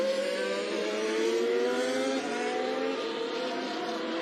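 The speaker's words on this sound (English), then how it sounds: "you can hear them sort of squeezing the throttle pedal as if there's an egg underneath it" A Formula 1 car accelerating under throttle during Bahrain testing, its high-pitched engine note climbing steadily as it pulls away, sustained and fairly close, with no one talking.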